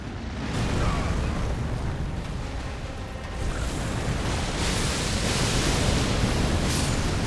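The Magma Wyrm's fire attack in Elden Ring, a continuous loud roaring rush of flame with a dense crackling hiss that swells slightly partway through and carries on steadily without any voices.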